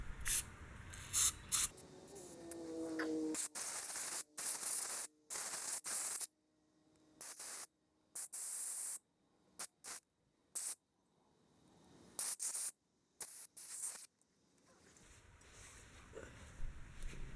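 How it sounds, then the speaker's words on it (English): Carburetor cleaner sprays in repeated bursts of hissing while passages on a 1957 Bolens engine part are cleaned, short blasts separated by silent gaps, close and crisp. "I'm going to use this spray carburetor cleaner, and I'm going to blow out the passages with compressed air"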